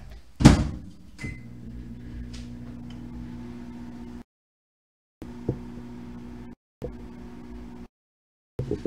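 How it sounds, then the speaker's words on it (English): A microwave oven heating a turkey enchilada on high gives a steady low electrical hum for several seconds, broken by a loud door-like clunk and beeps, then stops and restarts in short stretches. "throw this sucker in the microwave"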